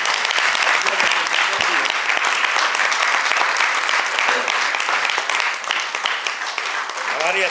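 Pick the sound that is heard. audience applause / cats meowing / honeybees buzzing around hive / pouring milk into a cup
audience applause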